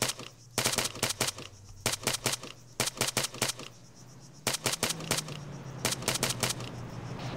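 Arma 3 gunfire cracks out in rapid clusters of sharp shots, repeated bursts of automatic fire at close range with short pauses between volleys during a hostage rescue playtest.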